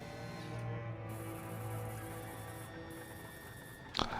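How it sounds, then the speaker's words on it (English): Printer-shredder all-in-one mechanism whirring and ratcheting quietly with steady mechanical hum, ending in a short sharp clack near the end; no talk. "I love it when my printer looks around to make sure there's no spies."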